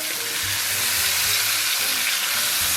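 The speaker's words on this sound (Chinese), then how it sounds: "然后咱们把排骨给它下里边，简单给它煸炒一下" Pork ribs stir-fried in a wok with chili paste and soy sauce, a loud, continuous close-up sizzle with faint low knocks of stirring underneath.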